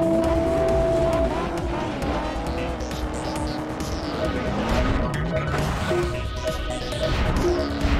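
Excite Truck video game racing, with trucks roaring along over continuous engine drone, tire squeals and skids, and custom music playing loudly throughout, with no talk.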